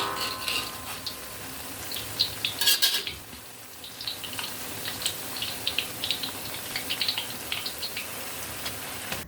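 Flat noodle fritters (bakwan mie) fry in a pan of oil, with a light crackling sizzle and sharp clinks and scrapes of a utensil against the pan.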